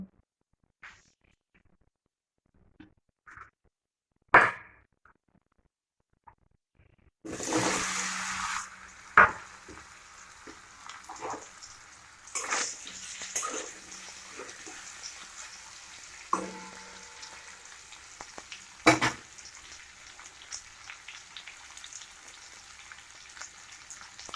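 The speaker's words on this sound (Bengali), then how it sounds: "পনিরগুলো হালকা করে ভেজে নেব" After a few quiet seconds with scattered clinks, hot oil in a wok bursts into a loud sizzle as paneer fries, with occasional stirring and scraping sounds in the pan.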